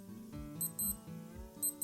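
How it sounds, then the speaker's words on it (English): A Casio G-Shock DW5900 digital watch (module 3465) sounding its alarm test: short, high electronic beeps in quick pairs, thin and close, with faint handling noise between them. "You can also do the alarm sound check, and to do that, press and hold the start button, and you will get this one"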